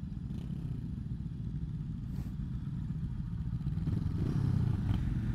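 A Brixton Crossfire 500 motorcycle engine runs steadily while riding, with a loud, continuous low drone and wind noise. It swells slightly toward the end as the revs climb.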